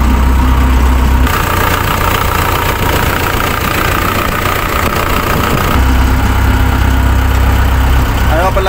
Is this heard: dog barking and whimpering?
no